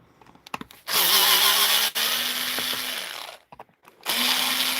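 A power tool whirs in close, loud bursts while backing screws out of a broken Dewalt lid, with short pauses, one clear restart and a final run.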